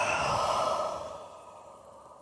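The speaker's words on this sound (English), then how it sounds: "Exhale all the air out." A long, deep exhale during a yoga session, a breathy sigh that starts strong and fades out over about two seconds, heard close and alone.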